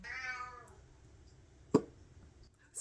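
A single faint meow from a cat, followed by a soft thud and quiet room noise.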